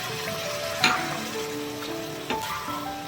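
Poppy seed paste bubbles and sizzles in a pan while a spatula scrapes through it twice, steady frying hiss with faint tonal hum underneath.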